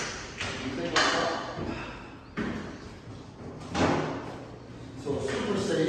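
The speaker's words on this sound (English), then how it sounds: "Then you have this little door. You take that off." A small metal hatch door on a Metatech scaffolding platform, with several clanking metallic bangs and scrapes at irregular intervals, loud and close, amid general handling noise.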